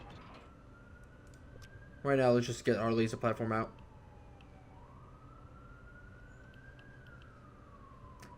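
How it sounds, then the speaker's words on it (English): Police car sirens wail outside a window, a faint, distant rising-and-falling tone running through the whole stretch while someone talks briefly over it. "There's a lot of police officers, a lot of police cars and stuff."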